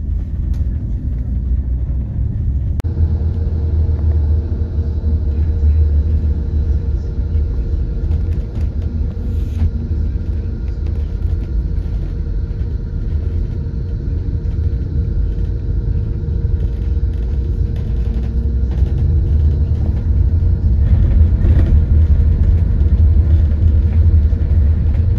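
Steady low engine rumble and road drone from inside a late-night coach travelling from Dublin to Tralee via Limerick, continuous and fairly loud throughout, with faint rattles and occasional clunks over the hum.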